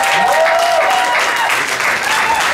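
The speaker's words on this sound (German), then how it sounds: "dann bitte jetzt nochmal euer Applaus für Armin Schlegel" Audience applause for contestant Armin Schlegel at a talent show's year-end final in the Pool Garden; dense, steady clapping from a large crowd fills the whole stretch at full loudness.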